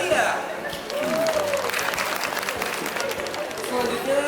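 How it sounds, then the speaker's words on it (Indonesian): Audience applause at a Sweet 17 birthday party, a continuous wash of clapping from a crowd, fairly loud and sustained, with some chatter and a voice mixed in. "Beri tepuk tangan yang meriah."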